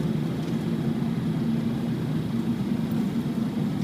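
A 2011 Honda Civic under way on the road, a steady low engine drone and tire roar filling the cabin, constant and fairly loud with no voices.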